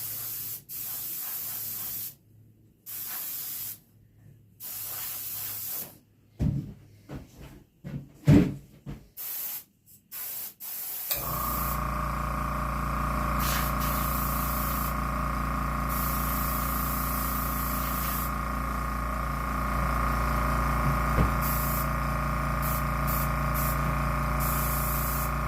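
An aerosol can sprays base coat sealer onto a full-body piebald deer taxidermy mount, short hissing bursts at first, then a long steady spray.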